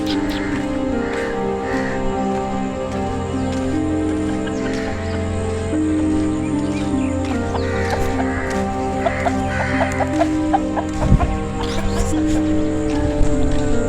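Desi roosters and hens cluck steadily on a morning walk outdoors, with repeated crowing calls rising over a continuous backdrop of fowl chatter, moderately loud and close throughout.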